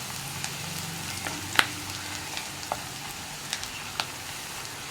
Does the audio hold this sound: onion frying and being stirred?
yes